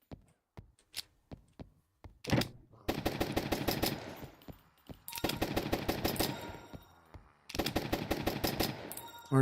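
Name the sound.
gun firing in the video game Zombiehood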